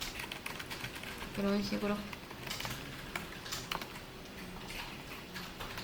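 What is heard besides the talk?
computer keyboard keys being pressed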